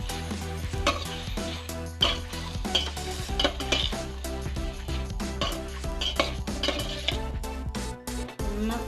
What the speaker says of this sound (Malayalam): ഇതൊന്ന് പതുക്കെ ഇളക്കി കൊടുക്കും.